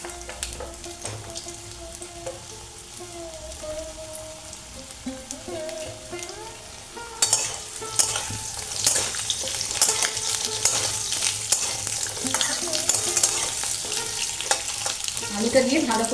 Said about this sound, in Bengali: আলুটা দিয়ে ভালো করে ভাজা হয়ে যাক,